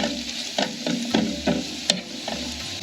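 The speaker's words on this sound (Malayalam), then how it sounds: "ഇതിലേക്ക് 1 തണ്ട് കറിവേപ്പിലയും കൂടി ഇടുന്നുണ്ട്. എല്ലാം കൂടെ നന്നായിട്ട് വഴറ്റുക." Curry leaves and masala stirred in a pan for a spicy Kerala-style meatball curry, giving a steady sizzle with soft spoon scrapes recurring every half second or so, close and moderately loud.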